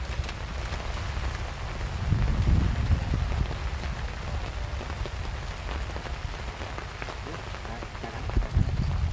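Steady rain patters down on surfaces nearby beside a village canal, a dense continuous hiss with occasional heavier drops and gusts.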